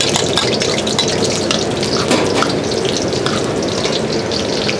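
Smashed garlic frying in a pan over medium heat, giving a steady, dense sizzle that holds at an even level throughout with no talking.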